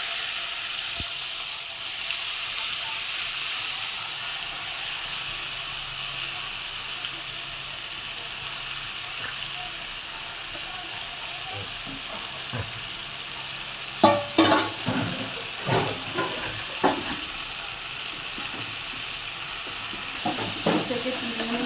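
Taro stolons (loti), coated and dropped into hot oil with black cumin, sizzle steadily in a pan, with scraping and clattering stir strokes breaking through in the second half; no talk.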